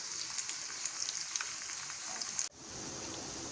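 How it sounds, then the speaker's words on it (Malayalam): Dragon chicken pieces sizzle steadily in hot oil with a dense, hissing crackle and small pops. The sizzle drops sharply near the end, then settles back to a quieter, even hiss. "നമുക്കിത് നന്നായിട്ടൊന്ന് മൂത്ത് വരട്ടെ."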